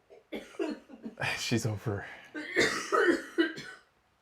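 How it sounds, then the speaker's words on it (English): A woman gives an exaggerated, dramatic cough and throat clearing in a series of harsh bursts, mixed with close talking and a short spoken phrase. "Most dramatic cough"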